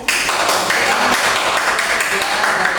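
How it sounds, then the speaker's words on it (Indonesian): Classroom students clap for a presenting group, a dense burst of hand claps that starts abruptly and carries on steadily for a few seconds. "Oke, tepuk tangan buat kelompok 2."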